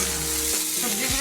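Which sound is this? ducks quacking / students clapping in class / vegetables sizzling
vegetables sizzling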